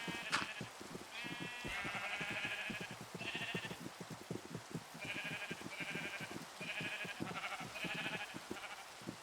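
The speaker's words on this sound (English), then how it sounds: "Wow, there's a lot of sheep over here" A flock of sheep in modded Minecraft bleats repeatedly, several overlapping baas in an irregular series over soft rhythmic tapping footsteps, with no talk.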